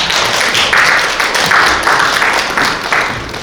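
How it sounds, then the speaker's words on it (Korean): An audience at a local policy research forum claps warmly to welcome a resident, a loud, dense, continuous patter of many hands that gradually tapers near the end. "뜨거운 박수로 한번 청하겠습니다"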